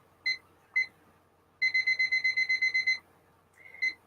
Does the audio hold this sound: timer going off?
yes